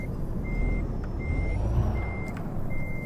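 Repeating reversing beeps from a CAT CT660 truck in American Truck Simulator, steady evenly spaced tones over a low engine rumble at a farm distribution centre, with no talk.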